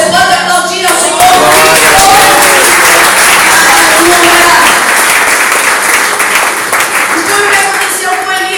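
A church congregation bursts into loud sustained applause that swells and holds for several seconds, with a voice and some singing or music running beneath the clapping.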